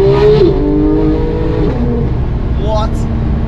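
Porsche GT3 engine revving hard toward its 9,000 RPM limit, a loud, sustained rising engine howl up close, with a person's voice briefly audible near the end.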